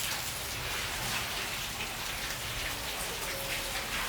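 Steady rain hisses evenly on surfaces outside an old house at night, a soft continuous patter with no pauses.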